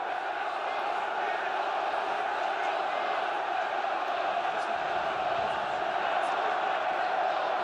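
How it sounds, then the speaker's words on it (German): Pasching supporters cheer and chant in the Hanappi stadium after a football match, a continuous, dense crowd roar that stays loud and even throughout. "Die Paschinger jubeln im Hanapi-Stadion"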